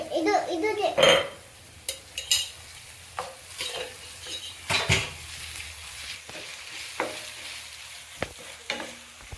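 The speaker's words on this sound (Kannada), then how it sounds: "ಶುಂಠಿ ಬೆಳ್ಳುಳ್ಳಿ ಪೇಸ್ಟ್ ಹಾಕ್ಕೊಳ್ತಾ ಇದ್ದೀನಿ." Ginger garlic paste stirred in a hot pan for tomato chicken gravy: scraping spoon strokes and light sizzling come in short repeated bursts, close by, with faint background chatter.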